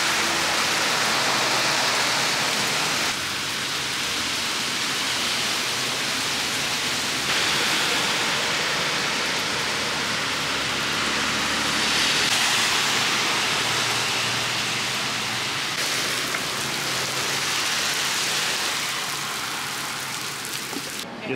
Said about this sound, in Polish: zobaczcie, jak daje deszcz